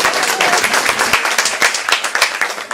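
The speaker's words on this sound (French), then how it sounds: "on applaudit." An audience at a conference bursts into dense, steady applause, many hands clapping at once and filling the room without pause.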